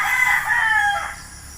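A stag rooster crows once, loud and near, a single drawn-out call that fades out over about a second with no talking.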